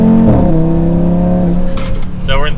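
A 2024 Audi RS3 accelerates gently in third gear, its engine note a steady, loud harmonic hum that holds and rises slightly before fading near the end, heard from inside the cabin.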